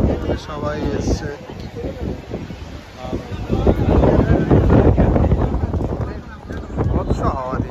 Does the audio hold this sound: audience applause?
no